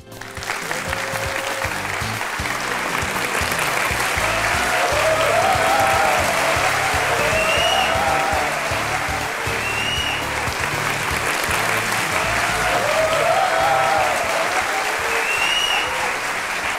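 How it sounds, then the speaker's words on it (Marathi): A studio audience at the taping of a Marathi courtroom-style interview show claps loudly and continuously, a dense sustained wall of applause with a few whoops rising over it. "तर या टाळ्या वाजत राहिल्या पाहिजेत"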